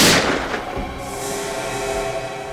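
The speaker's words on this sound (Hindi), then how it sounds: "गोली चलने की आवाज आई" A single sharp gunshot cracks out loud and close inside a building at the start, followed by a lingering low rumble and reverberant ambient noise.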